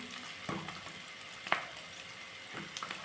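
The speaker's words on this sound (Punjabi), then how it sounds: "ਲਓ ਜੀ ਪਿਆਜ਼ ਆਪਣੇ ਹੋ ਰਹੇ ਆ ਲਾਲ ਤੇ ਹੌਲੀ ਹੌਲੀ ਹੋਣ ਲੱਗੇ ਹੋਏ ਨੇ" Onions frying in a pan for Maggi noodles, giving a steady low sizzle with a few soft stirring scrapes and taps, heard alone at moderate distance.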